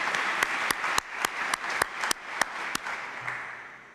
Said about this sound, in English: A round of applause for those who also introduced our